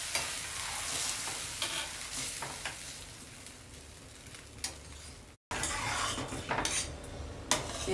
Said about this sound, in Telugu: దీన్ని కలుపుతూ ఉండాలి